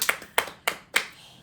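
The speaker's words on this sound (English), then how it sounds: "Let's get a round of applause for that." Four distinct hand claps, evenly spaced and fairly close, ringing out sharply in a quiet room with no talking.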